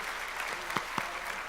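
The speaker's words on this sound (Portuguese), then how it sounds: "uma salva de palmas" A church congregation claps during a service, a brief, moderately loud burst of applause with a couple of sharper individual claps standing out.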